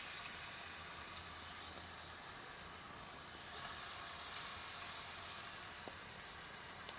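Salted king trumpet mushrooms fry in hot oil in a pot, giving a steady, fairly quiet broadband sizzle that swells slightly partway through and carries on evenly with no talk.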